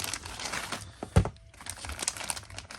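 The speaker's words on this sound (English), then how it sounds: "Get it out of the little plastic bag it comes in." Soft crinkling and rustling of a small plastic bag from an action figure mail-away package close by, with a sharper crackle in the middle, fairly quiet throughout.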